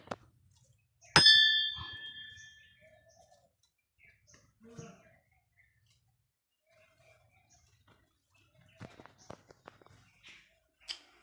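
A single bright metal bell is struck once at a Shiva temple, ringing out and decaying over about a second, followed by quiet with faint birds and a few soft distant sounds.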